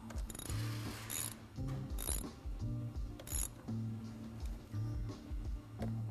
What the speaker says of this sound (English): Now the caliper bolts, you want to move to the pinch bolts. Just make sure that those are all tight.